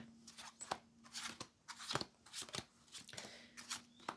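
Crisp, repeated riffling bursts of tarot cards being shuffled, several quick flurries in an irregular rhythm, close up with a faint steady hum underneath.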